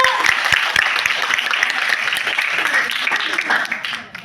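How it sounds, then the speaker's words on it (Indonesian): Participants at a peer-tutoring session on HIV/AIDS clap together in a lively round, individual sharp claps standing out over a dense wash, with faint voices mixed in before it fades. "Kasih tepuk tangannya dulu deh"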